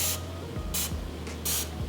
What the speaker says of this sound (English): I'm just gonna spray the inside of here